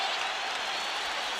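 A roaring arena crowd cheering at a heavyweight boxing match, a dense, steady wall of noise from thousands of spectators on their feet.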